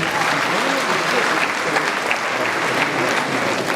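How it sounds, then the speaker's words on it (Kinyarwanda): Applause from the guests at a wedding reception, a dense steady clapping that fills the room at a constant loudness throughout. "Tubaha amashyi"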